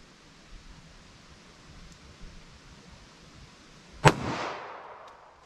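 A single sharp .45 ACP pistol shot from a Glock 41 cracks out near the end, loud and close, followed by a brief decaying echo over a quiet outdoor background.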